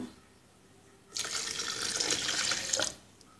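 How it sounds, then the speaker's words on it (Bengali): Water pours for about two seconds as a glass of water goes into a mix of yogurt and spices for a Bangladeshi yogurt drink, a steady close splashing that stops abruptly. "এখন দিচ্ছি 1 গ্লাস পরিমাণ পানি।"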